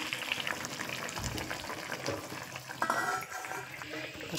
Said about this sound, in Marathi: मस्त उकळी पण आलेली आहे